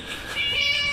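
A kitten in the Scary Teacher video game gives a single short, clear meow, close and alone.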